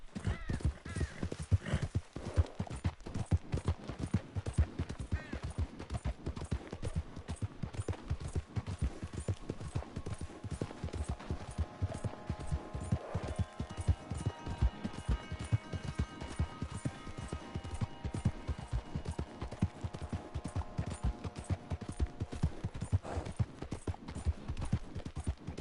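A horse's hooves clip-clop steadily and fast at a gallop while riding in Red Dead Redemption 2, close and continuous, with faint ambient sound layered over the hoofbeats.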